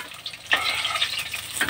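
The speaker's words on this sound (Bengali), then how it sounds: "এক এক করে সব ভেজে নেব।" Paneer pieces frying in oil in a home kitchen pan, with a loud continuous sizzle and a few sharper spits and stirring scrapes close by, and no voices.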